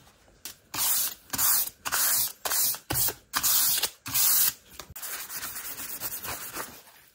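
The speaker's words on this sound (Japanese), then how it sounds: "360番で表面を軽く削っていきます" A wood surface on an instrument repair being lightly sanded by hand with 360-grit sandpaper: seven loud, close, rhythmic scratchy strokes with brief pauses between, followed by softer, lighter rubbing.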